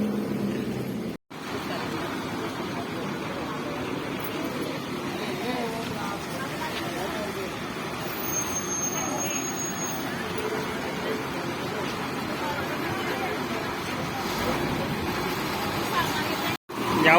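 Bus stand ambience at Yawal, with MSRTC buses rumbling and idling amid a low crowd murmur in the early morning, a continuous mid-level drone with no distinct departure moment.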